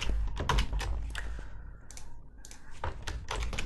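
Typing on a computer keyboard while filling out a WordPress install form: fast, close clusters of key clicks in short bursts with brief pauses, alone without speech.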